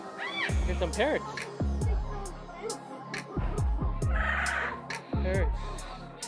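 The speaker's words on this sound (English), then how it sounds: "Here's some parrots." Parrots give repeated squawking calls in short bursts, close and fairly loud, while people talk over them.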